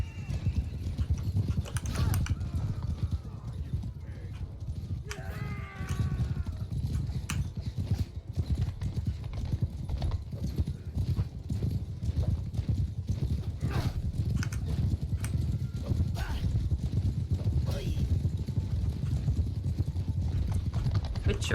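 Cavalry horses gallop in Bannerlord, a dense, steady drumming of hooves with an occasional whinny, with someone talking over it.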